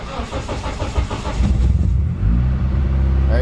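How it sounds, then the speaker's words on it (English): A car engine cranks and catches on a tuned second-generation Mitsubishi Eclipse, then revs up loudly and settles into a steady rumble, close by with no talking. "So start the car."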